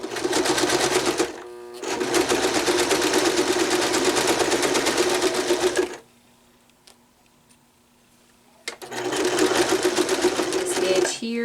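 A sewing machine stitches and back tacks a seam on a Dollar Tree hanging towel in steady rapid bursts, pausing for a few seconds mid-seam before running again, close and loud.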